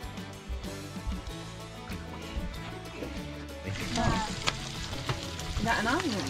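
Bacon frying in a pan on a fishing boat out on Port Phillip Bay, a steady sizzle running under a busy, layered background that grows louder and more crackling partway through.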